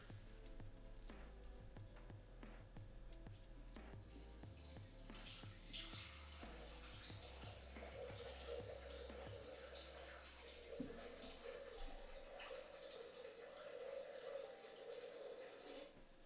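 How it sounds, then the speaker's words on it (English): Water pours into a Vitamix blender jar, a steady faint splashing stream with scattered clinks and knocks before it, no talk. "I'm gonna fill up my Vitamix blender with about, I'd say, 12 or so ounces of water."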